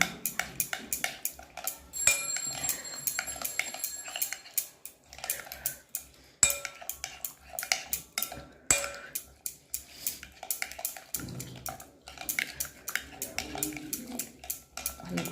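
Spoon stirring paneer marinade with tomato sauce in a bowl for street-style paneer barbecue, giving close, irregular clinks and scrapes against the bowl in quick repeated bursts.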